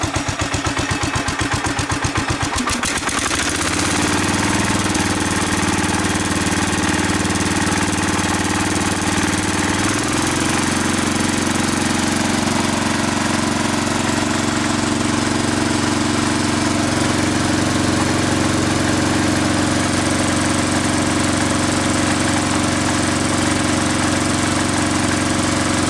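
A John Deere 140 lawn tractor's small engine runs steadily and loudly up close, with a rough, uneven start before settling into a constant drone that shifts slightly in pitch partway through.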